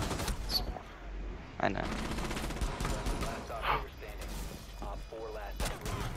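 Video game gunfire during a bomb-defuse round, with rapid hipfire bursts and mechanical clatter mixed under excited shouting from a player.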